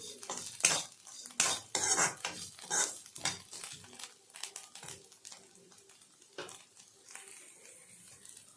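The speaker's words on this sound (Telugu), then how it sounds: "అరటిపువ్వు పచ్చివాసన పోయే వరకు వేపుకోవాలండి." Banana flower frying in a pan, stirred with a metal spoon: close, quiet scraping and clinking of utensil on pan in irregular strokes over a faint sizzle, with no talking.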